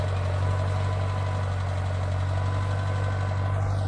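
A Massey Ferguson tractor plows a field in second gear, its engine a steady low drone with a constant hum and a faint rumble, loud and even throughout with no talk.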